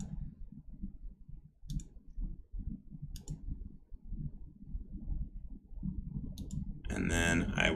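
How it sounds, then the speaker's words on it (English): A computer mouse being right-clicked while drawing in DesignShop V10 design software: a few sparse, crisp clicks spaced seconds apart over a quiet low hum, ending in a louder burst of noise. "I'm just right-clicking my way around."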